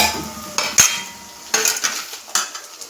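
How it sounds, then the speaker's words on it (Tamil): A spoon stirs sambar spice powder into onions in a pan, giving a few sharp metallic scrapes and clinks spaced irregularly over a few seconds, close up, with a faint background hiss. "சாம்பாருக்கு தேவையான இந்த பொடியை வெங்காயத்திலே போட்டு நல்லா"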